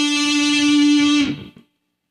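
A distorted heavy metal electric guitar plays the second octave of a D Dorian scale, ending on one loud sustained note that rings for about a second before being cut off and fading.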